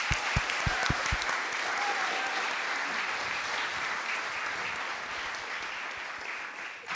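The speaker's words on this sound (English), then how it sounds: "let's just give everyone a round of applause" A class audience gives students a round of applause after a civil disobedience presentation, steady clapping throughout with a few thumps early on, the applause holding evenly before easing slightly at the end.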